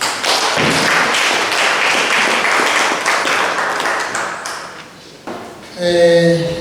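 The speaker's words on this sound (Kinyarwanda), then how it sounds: "reka twihe amashyi" Applause at a council meeting of commune advisers in Mabayi and Mugina, scattered hands clapping with taps and thuds that fade out, followed by a brief ringing tonal sound at the end.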